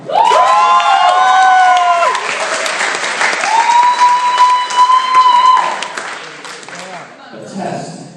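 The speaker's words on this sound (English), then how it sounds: "let's give that a clap." Wedding guests at a Castle Howard reception break into loud, sustained applause and cheering close by, with whoops and a tonal ringing over the crowd before it fades.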